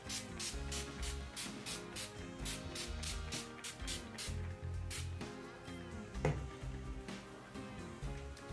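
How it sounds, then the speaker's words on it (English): A bottle of NYX matte setting spray is pumped onto a face, giving a steady series of about a dozen quick, close, soft hissing spritzes in an even rhythm, with no talking. "I'm going to spray my face with this matte setting spray from NYX"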